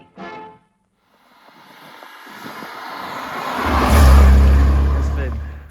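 A 1980 MGB GT car engine swells from quiet to a loud, throaty rev that peaks and holds before easing slightly, following a brief burst of sound at the start.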